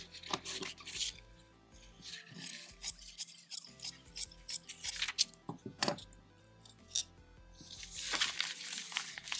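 Scissors cutting quilting fabric close up, a series of crisp snips and rustling rasps in irregular bursts, with fabric handling noise between cuts and no talking.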